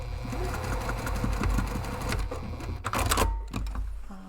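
A sewing machine back stitches a short way over a seam on a large padded camera bag, a steady close rattle of stitches for several seconds before stopping, with no talk.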